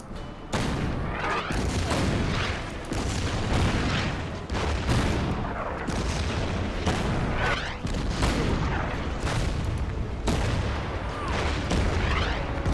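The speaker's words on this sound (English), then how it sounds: "Gotta love that artillery, really." Artillery fire in a World War II strategy game, heard as a continuous barrage of loud booms and thuds repeating every second or so, dense and rumbling throughout.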